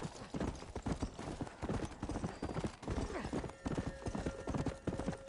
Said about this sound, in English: did you hear the other horse running around?